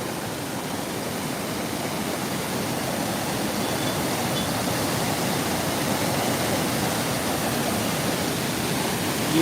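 A steady, roaring rush of falling water fills the whole stretch, constant and broad with no pauses, close by and fairly loud.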